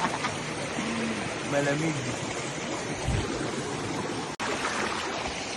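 Rushing water from a small stream-fed waterfall where people are bathing, a steady broadband wash throughout, with a voice speaking briefly over it.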